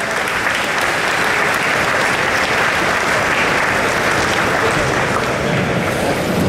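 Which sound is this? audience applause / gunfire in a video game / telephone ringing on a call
audience applause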